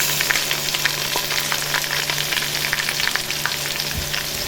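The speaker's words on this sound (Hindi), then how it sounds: "प्याज फ्राई हो चुके हैं। बिस्मिल्लाहिर्रहमानिर्रहीम। इसमें अदरक लहसुन डालेंगे।" Ginger and garlic sizzle steadily in hot oil with fried onions, a dense, continuous crackle with occasional stirring scrapes close by. No one speaks.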